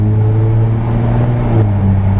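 A Jaguar F-Type S engine rumbles close and loud with a low, throaty drone, the throttle blipped briefly so the note dips and rises slightly.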